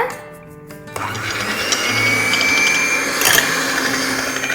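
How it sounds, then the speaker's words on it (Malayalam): An electric hand mixer beats eggs with vanilla essence in a bowl until frothy, a steady whirring motor hum starting after a brief pause and holding at close range with no talk. "ഇനി ഒന്ന് ബീറ്റ് ചെയ്ത് കൊടുക്കാം ഇതൊന്ന് പതഞ്ഞു വരണം"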